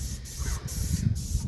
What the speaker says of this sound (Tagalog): nagumpisa na ang spray natin